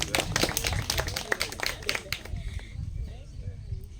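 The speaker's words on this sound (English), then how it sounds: "that deserves applause." Audience clapping during an entrepreneurship lecture, a burst of hand claps that thins out and fades within a couple of seconds, leaving quieter room sound and faint voices.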